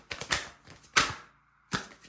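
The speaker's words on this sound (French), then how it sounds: "je bats les cartes à côté" Oracle cards shuffled in three short bursts, each a quick rippling flutter with brief pauses between, close and fairly quiet with no talking.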